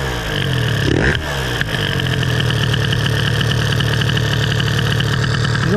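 Piaggio Zip scooter fitted with an Athena Racing 70cc air-cooled kit, engine running loud and close with a rev rise then a steady buzzing idle-to-throttle drone.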